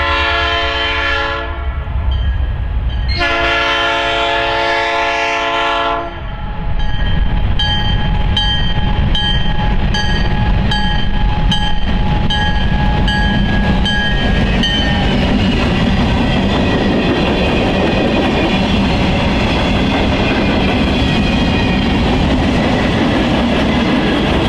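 A Norfolk Southern freight train on the former New York Central Chicago Line slows for a brief stop at Waterloo, its horn blaring in two long close blasts, then a steady rumble and clatter of cars rolling past.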